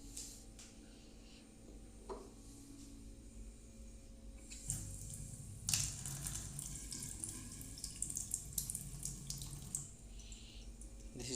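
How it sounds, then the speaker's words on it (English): Cool water runs from a kitchen tap into a cooking pot as a steady, faint rush that grows fuller and louder partway through, with a few clinks and no talking. "We put the cool water."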